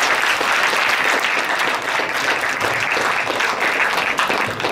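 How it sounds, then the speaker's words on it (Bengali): Sustained, dense applause from a concert audience at a modern Bengali song recital, loud and steady throughout with no talk over it. "একটা জোরে হাততালি দিয়ে স্বাগত করুন"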